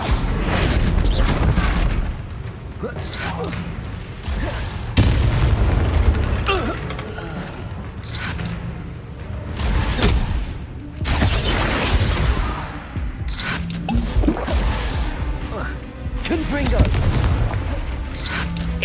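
Spell combat from the video game Hogwarts Legacy: repeated booming blasts, crackling impacts and whooshing magic bursts in quick succession, loud and dense, with voices shouting over the fight.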